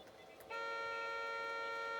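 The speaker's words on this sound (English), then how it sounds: "someone just, like, leaves their car horn honking" A car horn blares in the Import Tuner Challenge racing video game, one sustained, unbroken honk that cuts in abruptly after a short lull of background hum and holds loud and steady to the end.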